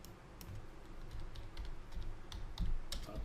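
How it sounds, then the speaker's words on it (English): Scattered keystrokes on a computer keyboard, a series of light clicks in irregular bursts over a soft background hum, faint and close, with no one speaking. "I'm going to type in here crypto"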